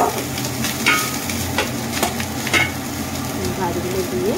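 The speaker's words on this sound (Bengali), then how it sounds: "কড়াটা গরম হয়ে গেছে, আমি এবার আলুতে ভাতগুলো দিয়ে দেবো।" Cooked rice tipped onto potatoes in a hot kadai for biryani sets off a steady, moderately loud frying sizzle, with scraping stirs and light clinks from a spatula mixing it through.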